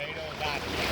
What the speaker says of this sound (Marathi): पाणी बघा कसं लोटीत आहे.